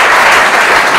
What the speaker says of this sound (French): Merci beaucoup de l'applaudir également